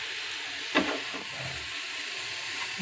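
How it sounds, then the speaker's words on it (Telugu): Syrup for coconut balls cooking in a pan on a low flame, a steady soft sizzle and hiss with a spoon scraping and stirring once or twice, close and alone. "సిమ్లో పెట్టుకొని అలాగా కలుపుతూ ఉండాలి పాకం వచ్చేదాకా."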